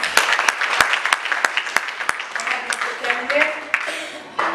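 A church congregation applauds in praise during a French-language service, with dense, sustained clapping and sharp individual claps standing out over a steady crowd wash, voices mingling underneath.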